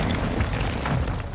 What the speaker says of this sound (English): I think an explosion just went off in here, like a mine or something.